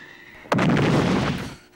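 A voice imitates a bomb blast: a sudden loud burst followed by a rumbling, hissing decay lasting about a second.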